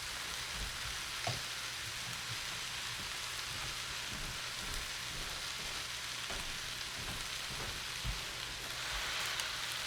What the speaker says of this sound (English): So we're gonna let these saute a little bit